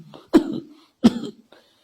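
Two sharp, close coughs about three-quarters of a second apart, each with a rough throat-clearing tail, followed by a faint rasp; no talking.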